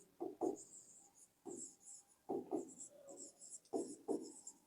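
Pen writing on paper during an accounting lesson, a few short scratchy bursts of strokes separated by brief pauses, close and fairly quiet, with no talk.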